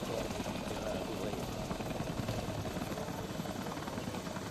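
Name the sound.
helicopter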